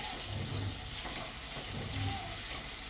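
Tomatoes frying in a pan for karadi bhaji, a Marathi-style safflower leaf dish, giving a steady soft sizzle with faint stirring scrapes, fairly close and without talk.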